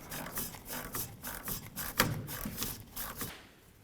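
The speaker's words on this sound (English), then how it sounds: "Just go ahead and put a 12mm on there, break it free" A 12 mm wrench works on a steering shaft bolt of a 2005–2015 Toyota Tacoma, giving a run of close, quick ratcheting clicks and metallic creaks with one sharper snap as the bolt breaks free.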